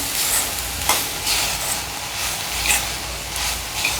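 Radish bhaji with freshly grated coconut is stirred in a pan over a constant frying sizzle, with soft, regular spoon scrapes every second or so, close up and loud, with no voices.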